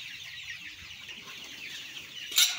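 Chickens on a chicken farm flock of about 1,000 birds with reduced appetite, faint scattered clucking over a low background hum, ending in one louder, sharper squawk up close.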